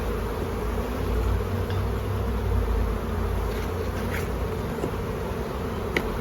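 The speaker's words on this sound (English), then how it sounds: "This little bees are busy on the honey here" Honey bees buzz on hive frames during a hive inspection, a dense, close, steady hum with no talking.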